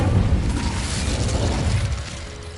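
Incendio fire spell cast in Hogwarts Legacy, a loud close whooshing burst of flame with a deep rumbling roar that holds steady and tapers slightly at the end.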